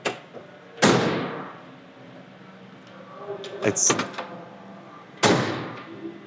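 A 1967 Ford Mustang GT's door swings shut with a solid thud, then latch clicks and rattles, and a second firm closing thump follows a few seconds later.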